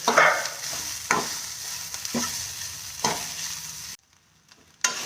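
Ingredients for Tamil seeralam sautéed in a pan over medium heat, a continuous sizzle broken by about four distinct stirring scrapes at roughly one-second intervals, then a brief near-silence before the sizzle returns.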